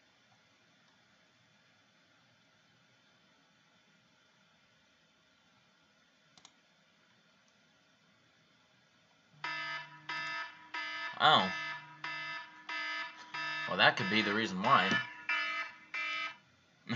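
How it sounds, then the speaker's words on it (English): After a quiet stretch, a timer alarm starts beeping in rapid repeated pulses and keeps going, with someone speaking briefly over it. "that's the timer going off"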